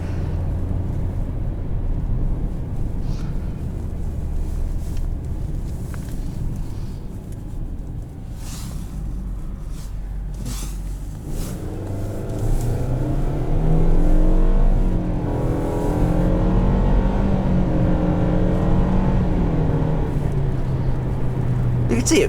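A 2022 Mitsubishi Outlander SE with a CVT accelerates from inside the cabin, a steady engine drone rising in pitch and building in loudness over about twenty seconds, with someone talking over parts of it.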